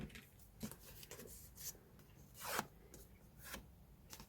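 Paper folded by hand for a booklet: a quiet series of soft rubbing and creasing swipes, each a brief rasp, close to the microphone with no talk.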